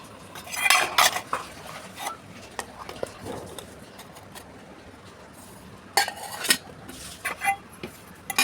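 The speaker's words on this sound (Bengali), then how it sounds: "তো টিফিনটা গুছিয়ে দিই" Plates and cutlery clink and scrape up close as a lunch tiffin box is packed with rice, fried potatoes, fried egg and pickle. The sounds come in scattered bursts with quieter gaps between them.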